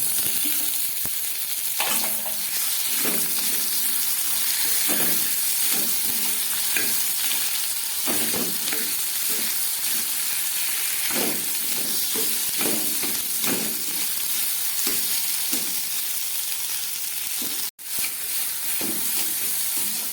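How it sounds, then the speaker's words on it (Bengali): Boiled potatoes go into a hot spiced tempering for a sabudana dosa curry, setting off a loud, steady sizzle and hiss of frying with occasional stirring scrapes throughout. "ফোড়নটা ভাজা হয়ে গেছে, এবার আমি এর মধ্যে দিয়ে দিচ্ছি সিদ্ধ করে রাখা আলুটা।"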